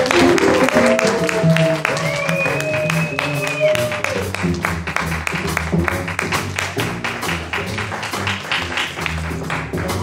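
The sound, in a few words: audience applause for a jazz performer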